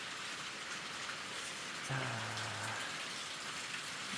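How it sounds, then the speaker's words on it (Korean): Winter rain falls steadily in a rural yard beside stacked firewood, a dense, even hiss of drops spread across the whole scene, with someone briefly speaking partway through. "빗소리가 굉장히 많이 나네요."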